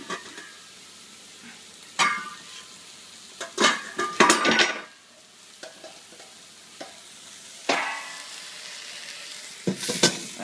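Fish and steak fry in a pan, a steady sizzle broken by loud clattering of utensils and pan handling, with bursts of spitting and scraping at irregular moments.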